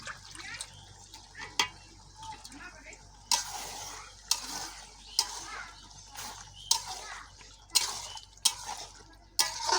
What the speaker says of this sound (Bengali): এটা দিয়ে দিচ্ছি লবণ সব কিছু দিয়ে সুন্দর করে মিশিয়ে নিল গোষ্ঠটা দিয়ে দিলাম